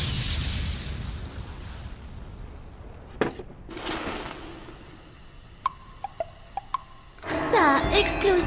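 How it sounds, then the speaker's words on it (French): A cartoonish explosion bursts from a pot of soup being cooked in an anime kitchen, a sharp boom followed by scattered pops and clattering debris, then a loud jumbled crash near the end. "Ça a explosé. Ça a tout explosé."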